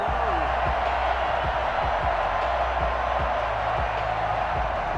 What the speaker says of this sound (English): And this crowd into it early.